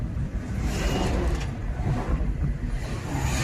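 A car engine rumbles steadily while driving and shifting down a gear on a driving-school car, a continuous close low drone with road noise and no clear talk.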